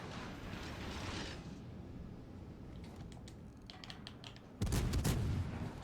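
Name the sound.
naval gunfire from blind firing in World of Warships Legends, video game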